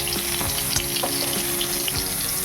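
Chana dal hitting a hot tempering of green chilli and whole garam masala in a pan, a steady close sizzle with watery hiss and a few soft clinks, no voices.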